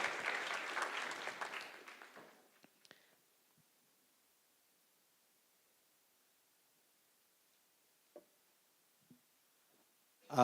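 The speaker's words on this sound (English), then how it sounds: "Please, let's appreciate the panel one more time. The round of applause." Conference audience applauding a panel at a blockchain and crypto event in Kenya, a dense burst of clapping for about two seconds that fades out, followed by near silence with a few faint knocks.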